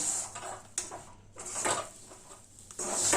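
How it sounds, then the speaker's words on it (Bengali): A metal spatula scrapes and knocks in a pan as a potato and semolina dough is slowly stirred over a low flame, giving irregular clatters and scrapes, close and fairly quiet, with no talk. "এবার খুন্তি দিয়ে এইভাবে আস্তে আস্তে নেড়ে চেড়ে একটু শুকনো করে নিতে হবে"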